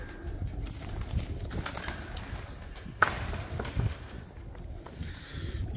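Pigeons at a breeder's loft in Bradford, UK, giving soft low coos amid steady rustling and shuffling, with one brief louder knock partway through.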